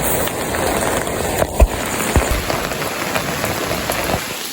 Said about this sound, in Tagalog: Pero pag ulan-ulan ng ganito, wala naman.